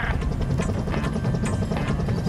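Helicopter in the video game Disney Infinity 3.0 during a flying lesson, its rotor thumping in a fast, steady pulse over a low engine drone, loud and close throughout.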